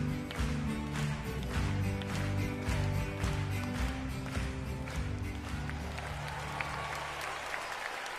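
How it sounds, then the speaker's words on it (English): Audience at a concert clapping in a dense, sustained round of applause, loud and steady before thinning slightly toward the end, with music faintly underneath. "The band began to play, and Little Miss Muffet clapped."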